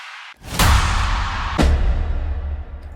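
A music-production impact effect for afro house tracks: a sharp hit lands with a deep booming low end and a noisy crack, followed by a second hit, both decaying into a long rumbling tail, with no other sounds.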